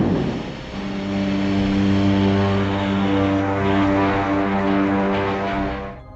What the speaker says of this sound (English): The sounds of the Death Star's super laser were created using sounds of spaceships from Flash Gordon.